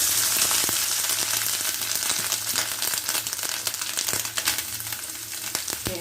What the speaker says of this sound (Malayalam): അതിലേക്ക് തേങ്ങ ഇട്ട് കൊടുക്കണം.